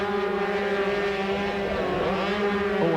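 125cc racing motorcycles at Mallory Park, a loud sustained high-pitched two-stroke engine whine with shifting revs as bikes pass close, no talking.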